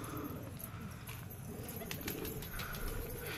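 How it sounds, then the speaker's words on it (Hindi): Pigeons kept outdoors at dusk give soft, low cooing calls amid a noisy, rumbling background, faint and fairly distant, with a few light chirps and rustles mixed in. "हमारे काफ़ी सारे कबूतर अभी बाहर"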